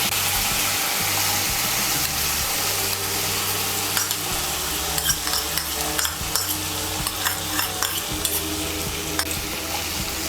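Soaked mung dal frying in a pan with spice masala, a steady hiss of sizzling oil with scraping stirring strokes and occasional small ticks, close and continuous.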